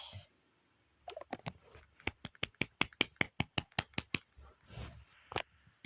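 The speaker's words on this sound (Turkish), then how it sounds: "Alkış." A few hands clap for the winner of a game played together among friends: about fifteen crisp, evenly spaced claps up close, fairly quiet, ending with a brief soft murmur.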